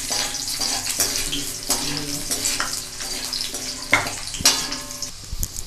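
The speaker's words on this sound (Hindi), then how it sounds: "और इसको हल्का सा फ्राई कर लेंगे।" Garlic frying in hot oil, a steady sizzle with occasional stirring clatter and clinks, close and moderately loud with no talking.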